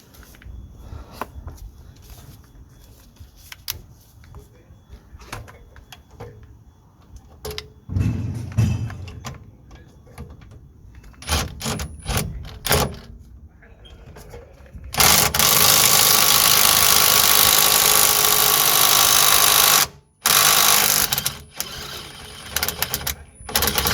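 Metal-on-metal clicks and ratcheting from a 17mm spanner and socket working the caliper guide pin bolts on a Vauxhall Opel Astra rear brake, sporadic up close, followed by a long loud burst of harsh broadband noise, likely a power tool.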